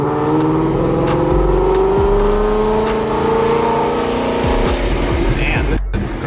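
A Ford Mustang with a very loud aftermarket exhaust revving hard, rising and falling engine roar up close with speech over it and a sharp pop near the end.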